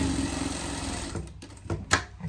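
Sewing machine topstitching a fabric piece of a pet cape, a steady close mechanical whir that runs continuously for about a second before breaking into a few short bursts and stops.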